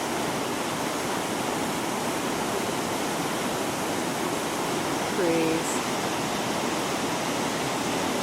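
A flooded river in Lobo Canyon, swollen by heavy January rains, rushes in a loud, continuous broadband roar. The roar stays unbroken throughout, with a brief faint sound near the middle.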